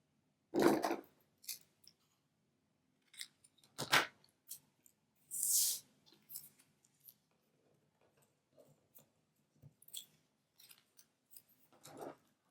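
Scissors snip through scrap paper for craft tags in a quiet room, a few sharp, separate cuts followed by soft paper rustles and small handling clicks, with no speech.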